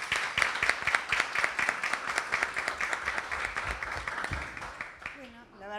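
An audience claps in sustained applause at a literary tribute event, a dense crowd of hand claps that fades out near the end as a voice begins.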